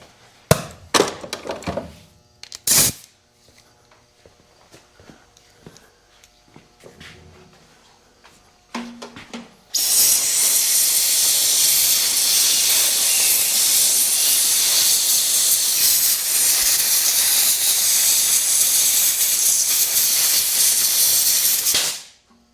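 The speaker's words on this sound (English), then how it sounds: "Grab some compressed air." Compressed air blasting onto a lift cylinder of a New Holland 660 round baler, a loud sustained hiss for about twelve seconds after some scattered clanks and knocks of handling parts.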